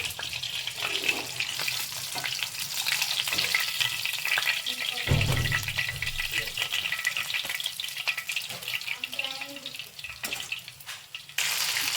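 Fish pieces coated in mint masala fry in a pan with a constant close sizzle and crackle, broken by a few brief stirring and handling sounds.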